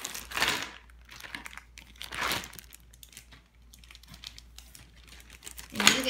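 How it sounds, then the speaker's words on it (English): A bag holding small classroom objects such as a glue stick is opened with loud, close crinkling and rustling in several bursts, separated by quieter handling noise. "What you get to do is open your bag."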